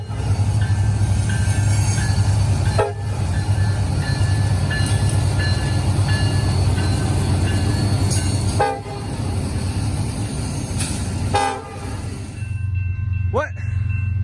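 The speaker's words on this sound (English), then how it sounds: "it led a 54G coming off the Frankfurt line" Norfolk Southern locomotive 1073 leads a freight train coming off the Frankfurt line, a loud continuous rumble of engine and rolling cars with several short horn blasts, and a voice talking over it.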